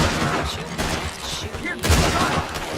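Gunfire in the Western video game Red Dead Redemption 2, a dense volley of sharp shots cracking in quick succession with a louder burst near the end, with game ambience underneath.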